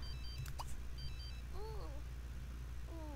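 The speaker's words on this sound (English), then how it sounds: "Why is her phone ringing?" A phone rings in The Sims 3 video game, a short electronic ringtone pattern repeating a few times at moderate volume over a steady background hum.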